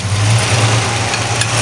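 A Pontiac Catalina 2+2 with a 421 tri-power V8 and HO exhaust manifolds rumbles after a cold start, a loud, close, continuous deep idle with a slight throb.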